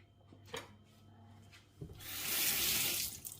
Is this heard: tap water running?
yes